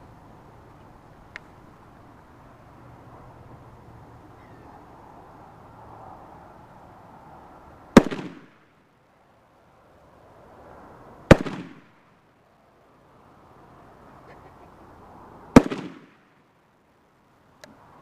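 Three sharp, loud rifle shots ring out at a target outdoors on a chilly day, each followed by a brief echo, with quiet stretches of several seconds between them.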